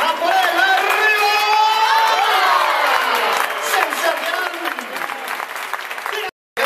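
Bullfight crowd at an Aranjuez ring cheering and clapping loudly and continuously, a dense roar of applause and shouts that swells, then briefly drops out near the end before resuming.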